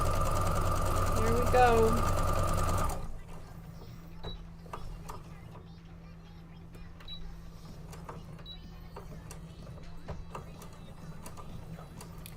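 Sewing machine running fast through its final stitches, a loud steady mechanical whir under a man's speech for about three seconds, then stopping and leaving quieter room noise with faint clicks.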